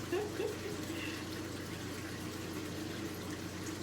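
Water runs steadily from a tap over hands being washed, a soft continuous wash with a low hum beneath and a brief louder splash near the start.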